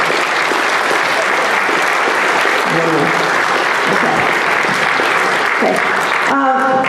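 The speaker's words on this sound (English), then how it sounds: "Let's get a round of applause for all our TSA." Audience at a school board of education meeting applauding students, sustained loud clapping from a crowd filling the whole stretch, with a few faint voices underneath.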